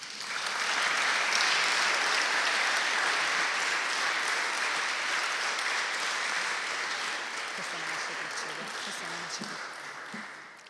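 An audience at an academic awards ceremony applauds with sustained, even clapping that fades slightly toward the end, with faint talk underneath.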